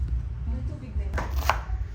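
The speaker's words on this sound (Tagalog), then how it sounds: "At naghihiwa naman ng sibuyas." An onion being chopped on a board gives a sharp knife knock near the end over a low background murmur, close and fairly faint.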